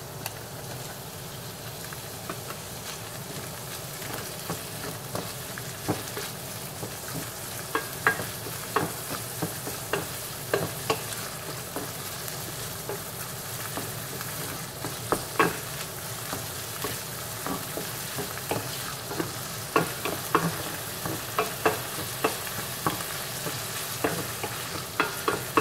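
Chopped bacon fries in a pan with a soft, continuous sizzle, while a utensil stirs it in frequent scraping clicks that grow busier and louder toward the end.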